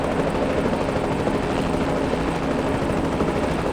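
A video game helicopter hovers close by, its rotor thumping in a steady, loud, continuous drone with no talk over it.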